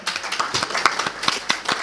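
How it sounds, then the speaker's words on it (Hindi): Listeners at a meditation and yoga talk break into quick, loud clapping, a brisk scatter of sharp hand claps up close that lasts only a moment. "जल्दी जोरदार तालियां"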